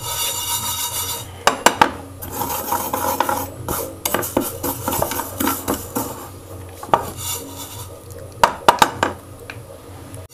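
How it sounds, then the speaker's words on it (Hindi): Sesame seeds roast in a pan as a utensil stirs and scrapes them, giving scratchy rasping strokes and occasional sharp metallic knocks against the pan, with no talk. "पहले सेसमे सीड को हमने रोस्ट कर लेना है।"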